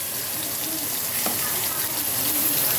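Shrimp fry in a hot pan as part of a home cooking session, giving a steady, close hiss of sizzling that runs throughout and swells slightly louder in the second half, with no one talking.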